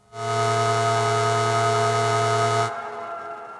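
A loud, steady no-input mixer feedback drone with a low hum and bright overtones, with reverb added, holds for over two seconds, then cuts off, leaving a faint reverberant tail.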